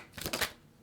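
Tarot cards being shuffled by hand: a quick, close burst of papery riffling with two or three soft bursts, then fading to quiet.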